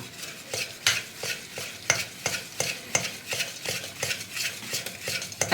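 Wire whisk beating dhokla batter in a bowl like cake batter, a quick steady rhythm of close, bright metallic clicks and scrapes against the bowl, with no talking.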